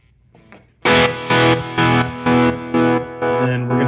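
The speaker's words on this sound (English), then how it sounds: "we're going to change this spring reverb so that it's only a hard chop tremolo." An electric instrument is run through a spring reverb unit reset to a hard chop tremolo, giving loud, evenly spaced rhythmic pulses that switch sharply on and off, with a softer lead-in before the chopping starts.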